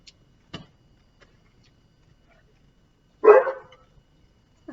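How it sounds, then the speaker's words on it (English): A pet dog at a home Passover celebration gives one short, fairly close bark in an otherwise quiet room, with a few faint ticks and knocks before it. "That's my dog."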